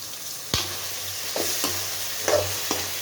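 Eggplant pieces sauté in a frying pan with onion and tomato, a steady soft sizzle broken by a few sharp scraping stirs of a spatula, close and without talk.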